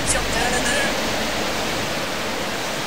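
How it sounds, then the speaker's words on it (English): Water rushes steadily in the Left 4 Dead 2 Flood Center level, a constant broad hiss like a nearby waterfall or drain flowing without pause. "What is this, like water flowing down there?"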